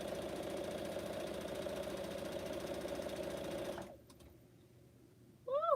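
Sewing machine stitching quilt blocks, a loud, fast, steady mechanical whir with rapid ticking needle strokes that stops abruptly near four seconds, leaving quiet, followed by a short beep-like tone at the end.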